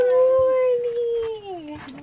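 A dog howls in one long, wavering tone that slides slowly downward, close and clear, and ends in a few short whimpering yips.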